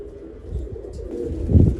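Low, throaty cooing of a large male punnu-breed pigeon close by, a soft rolling coo that swells louder near the end.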